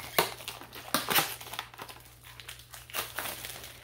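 Plastic packaging on a countertop organizer crinkles and crackles in several bursts, close and fairly loud, with no talking.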